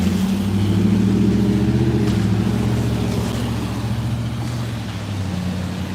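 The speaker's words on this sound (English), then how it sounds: "I hope none of these cars try to splash the water" Cars passing on a wet road: a steady, close engine rumble with a low hum that swells and fades as vehicles go by, with no voices.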